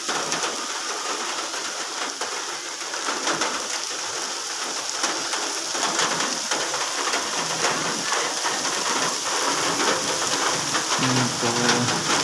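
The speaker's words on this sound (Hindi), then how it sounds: "हमारे गांव में एक मरतबा फिर बारिश शुरू हो गई" Heavy rain pours steadily in a village, a dense continuous hiss of large drops drumming on surfaces, close and loud throughout with no voices.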